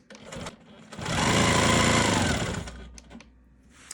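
A sewing machine quilts diagonal lines across a fabric block in one steady, loud burst of rapid stitching lasting about a second and a half, with quiet handling before and after.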